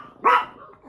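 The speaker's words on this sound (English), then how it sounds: "She is very much enjoying watching these dogs." A dog gives a single short, close bark, alone and fairly loud.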